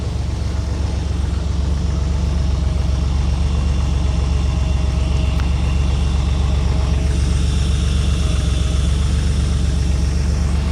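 Classic cars, including Porsche 911s, idle and warm up before a rare car auction in Tokyo, a loud, steady, deep engine rumble with layered exhaust burble and no break.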